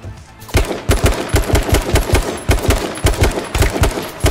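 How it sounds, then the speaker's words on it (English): Rapid automatic gunfire in the H1Z1 King of the Kill video game, loud bursts of evenly spaced shots rattling almost continuously after a brief quiet opening, with short gaps between volleys. "Those bullets are hitting him."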